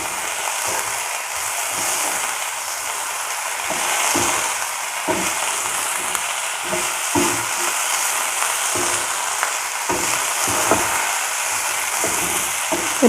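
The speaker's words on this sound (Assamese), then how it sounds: "এতিয়া মই ধুনীয়াকৈ লৰাই দিম" Khutura greens with turmeric being stirred in a hot pan, a steady sizzle with repeated scraping strokes of a spatula at an irregular rhythm, close and moderately loud.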